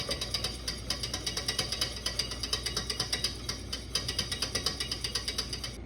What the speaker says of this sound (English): So slowly, whisking the entire time because this pot is over direct heat.